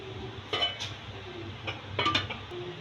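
A few metal clinks and scrapes of a utensil against a pot sound as gravy is dished out into a serving dish, quiet and spaced apart over a low kitchen hum.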